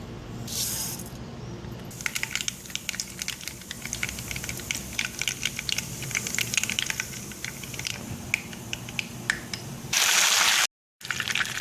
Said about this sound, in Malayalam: ഇപ്പോൾ വെളിച്ചെണ്ണ ചൂടായിട്ടുണ്ട് നമുക്കിതിലേക്ക് കടുക് ചേർക്കാം